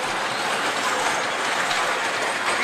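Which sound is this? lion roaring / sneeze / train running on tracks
train running on tracks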